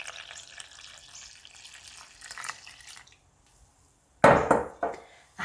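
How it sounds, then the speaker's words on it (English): Lukewarm water is poured into a well of dough ingredients for a sweet grape focaccia. A soft, hissing trickle runs for a few seconds, then a pause, then a few sharper splashing bursts. "I'm adding 1 1/2 cups of lukewarm water."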